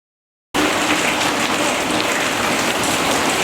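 After a brief silence, a sudden heavy rain shower abruptly starts at a traveler camp in Mongolia, a dense, loud hiss of drops pounding a surface that continues steadily to the end.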